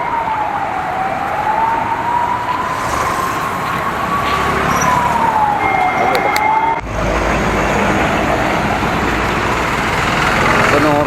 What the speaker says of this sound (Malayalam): ഒരു ആംബുലൻസ് തന്നെ ഉണ്ട്. അത് കേട്ടോ